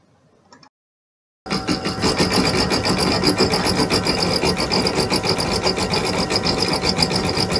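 A Brother embroidery machine runs slowly at low speed, stitching the outline around a patch design; after a brief silence its steady, busy mechanical whir and rapid needle ticking start up close and continue alone to the end.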